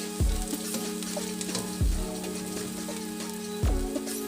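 Garlic sautéing with onion in a hot pan for a sayote and ground meat dish, a bright continuous sizzle broken by a few low thumps from stirring.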